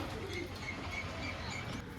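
Active pigeons, an Andra-breed breeding pair, coo softly and repeatedly in a steady low murmur, with faint bird chirps above and no talking.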